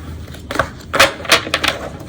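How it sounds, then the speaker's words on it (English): Quick riffling clicks and flutters of cards being shuffled, close up, in a few short bursts. "I'm going to shuffle really well"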